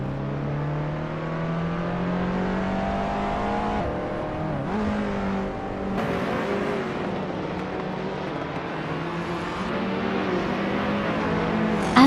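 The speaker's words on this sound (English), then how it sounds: "Murray is driving a 2004 Toyota Corolla." 2004 Toyota Corolla racing engine in a racing game, a loud continuous drone with rising revs, gear-shift drops and another revving climb, heard alone for twelve seconds.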